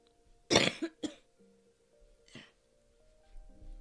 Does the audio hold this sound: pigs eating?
no